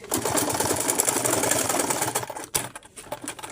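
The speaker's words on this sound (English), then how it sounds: "So now I'll take it to my machine. I'll sew it from this part here." A sewing machine stitches fabric for a ruffle turban cap, a fast steady mechanical whir running close and loud, then slowing into a few short bursts and stopping.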